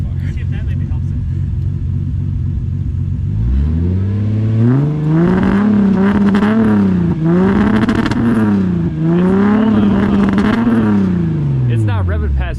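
A Lexus SC300 engine with a rough, dirty-running tune, probably fouled plugs, idles low and then revs repeatedly in rising and falling surges that stall short of higher rpm, loud and close throughout.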